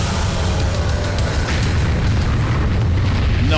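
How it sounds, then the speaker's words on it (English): A loud, sustained rumbling boom from an explosion in the horror video game Michigan: Report from Hell, a dense roar that fills the whole stretch with no talking over it. "It exploded."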